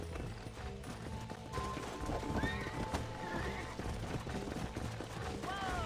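Horse hooves clip-clop steadily while a horse neighs and whinnies a few times, over a busy Red Dead Redemption game soundscape with faint mechanical clicks.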